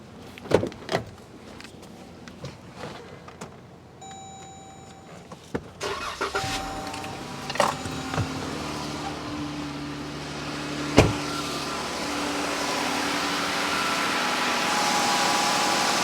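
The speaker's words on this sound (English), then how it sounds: "We'll let the vehicle start and warm up." A Jeep Grand Cherokee with a newly replaced thermostat is started after a few clicks and mechanical knocks, then settles into a steady, rising warm-up idle that fills the background.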